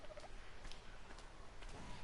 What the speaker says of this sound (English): And there's the dodo bird.